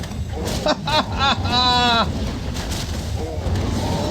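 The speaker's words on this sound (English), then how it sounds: "Perfect sheep sound." A sheep unit bleats in a Warcraft III match between human and orc players, several short wavering bleats clustered in the first two seconds over steady game noise and music, with a fainter bleat near the end.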